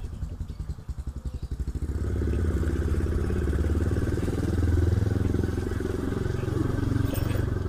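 A Yamaha Scorpio 225 motorcycle engine rumbles steadily close by, starting with a choppy idle-like pulse and then settling into a louder, sustained running drone, with no talking.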